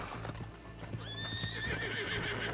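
Horse in the Red Dead Redemption 2 video game, with a drawn-out neigh over steady hoof clip-clop and game ambience, fairly close and clear.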